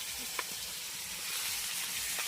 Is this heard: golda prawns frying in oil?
yes